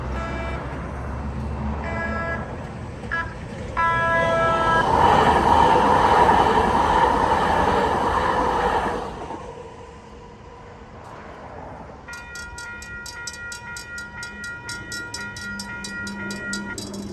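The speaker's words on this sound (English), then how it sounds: "Across the tracks, we look westbound, and here comes another trolley" A San Diego trolley nears a railroad crossing, sounding its horn in short blasts before a loud rolling rumble passes, followed by the crossing bells ringing rapidly and steadily as the noise fades.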